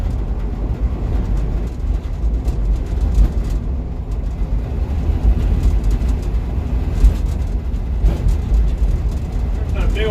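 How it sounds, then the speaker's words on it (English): Big train rolling past in the Washington countryside, a steady low rumble with faint clatter at a distance, heard from inside a moving vehicle whose road noise blends with it, while someone talks over it. "There's that big old train again over there."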